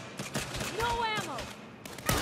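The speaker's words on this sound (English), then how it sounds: "They're shooting at us!" Enemy gunfire in the Saints Row video game on a corporate executive floor: several sharp bursts of shots crackle through the scene, mixed with game voices speaking over the shooting.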